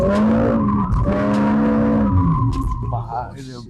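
A 2020 Mercedes-Benz CLA 45 AMG spins with its tires skidding, a loud, close engine drone layered with squealing rubber that eases off toward the end.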